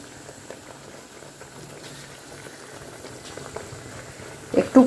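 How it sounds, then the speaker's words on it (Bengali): A pot of curry with lentil fritters (bora) boiling, steady soft bubbling and popping close by, rising to a couple of louder bursts of clatter at the end. "একটু ফুটিয়ে রেখে দেবো"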